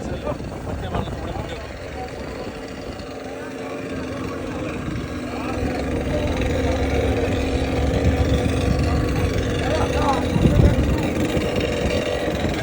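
A fishing boat's engine drones steadily and close, growing slightly louder over time, with people talking over the motor noise.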